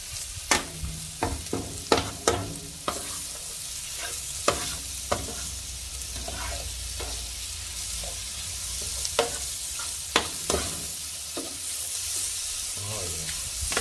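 Squid and cuttlefish sauté in a pan for Spanish black rice, a steady close sizzle broken by repeated sharp scrapes and clacks of a utensil stirring, with no talking.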